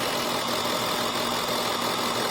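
Ford Fusion fuel injectors pulsing on a test bench, with one faulty injector that had been misfiring now stopped, heard as a dense, steady rapid clicking buzz, loud and continuous with no talk.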